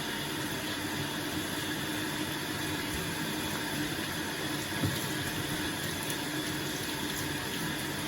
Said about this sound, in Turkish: Çekirdeklerini yıkayacağım.